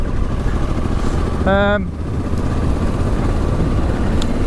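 A Triumph Tiger adventure motorcycle rides steadily along a green lane, its engine a loud continuous drone with wind noise, and a brief rising tonal whine cuts in partway through.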